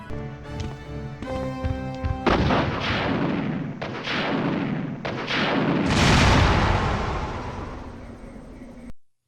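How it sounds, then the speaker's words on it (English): A rocket exploding in the Resident Evil: Director's Cut video game, with loud broadband booms and blasts that start after a tonal musical opening, swell to a heavy roar and then fade out. "Looks like this rocket fucking exploded and shit."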